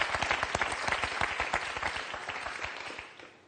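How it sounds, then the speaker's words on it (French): A studio audience on a French television quiz show bursts into sustained applause, dense clapping filling the room steadily before tapering off slightly at the end, with no speech over it. "On applaudit"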